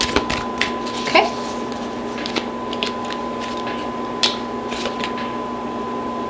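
An oracle card deck being shuffled by hand, giving a run of soft papery riffles and flicks with a few sharper snaps, close and fairly quiet over a steady background hum.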